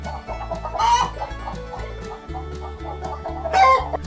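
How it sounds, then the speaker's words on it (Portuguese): Farmyard chicken clucking in a quick, rhythmic series of short clucks, fairly close and clear, with two louder, sharper calls standing out near the start and end; no voices. "Galinha."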